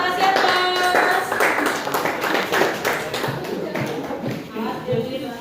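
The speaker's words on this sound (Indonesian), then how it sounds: "Kelompok 2 kasih aplaus." A classroom of students at a Papua high school clapping for group 2 as it comes to the front: dense, continuous hand claps across the whole stretch, close and moderately loud, with voices mixed in.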